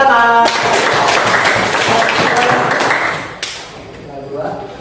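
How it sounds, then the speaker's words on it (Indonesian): Students in a classroom break into a round of hand clapping that runs about three seconds and then fades, with a voice speaking just before and faint talk after. "Betul, tepuk tangan."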